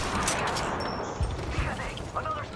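Gunfire in the video game Apex Legends: a burst of sharp shots and bangs at the start, then a few scattered thuds and clicks under game noise, with a voice talking in the background.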